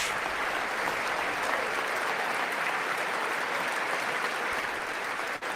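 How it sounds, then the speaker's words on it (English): Steady, continuous applause from a large audience at the State of the Union address, clapping for firemen, a dense even wash of hands heard at moderate distance throughout. "you got to clap for firemen"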